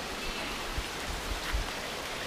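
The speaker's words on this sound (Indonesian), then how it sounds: "Kayaknya air terjun di sini." Rushing water from a waterfall stream in Bali gives a steady, faint, broadband hiss with a few low thumps, and no voices.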